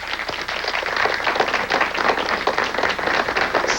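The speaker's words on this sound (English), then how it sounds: "Now we can applaud for them. Good job, players." Quiz show audience applauding the players, a steady, dense wash of clapping from a crowd holding at even loudness throughout with no voices over it.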